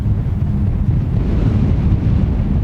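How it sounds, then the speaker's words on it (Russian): Strong sandstorm wind in Saudi Arabia roars continuously, a dense low buffeting rush across the microphone with a steady hum like a distant aircraft, loud and unbroken, no voices. "Но мне кажется, что этот звук создает песчаная буря."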